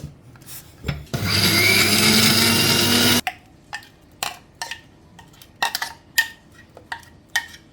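An electric blender grinds a paste with sugar, salt and a little water for momo dough, a loud steady whirring burst of about two seconds, followed by scattered knocks and clatter of handling the jar, close by.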